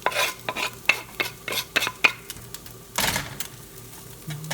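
Onion slices dropped into a pan with bacon and eggs, with stirring clatter, scraping, and utensil taps over a low sizzle, close and moderately loud.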